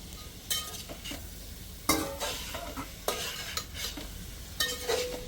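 A spoon stirs boiled vegetables and paneer in a pan for veg paneer biryani, giving several distinct scraping strokes with a faint sizzle underneath and no talking.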